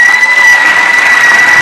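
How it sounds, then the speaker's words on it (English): An audience applauds an award winner at a school app awards ceremony, a dense burst of clapping close and loud, cut short. "Round of applause for St. Mary's"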